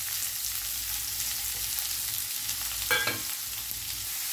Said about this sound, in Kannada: ಇರೋದೊಂದು ಸ್ವಲ್ಪ ಕಲರ್ ಚೇಂಜ್ ಆಗೋದವರೆಗೆ ಇದನ್ನು ಫ್ರೈ ಮಾಡುವ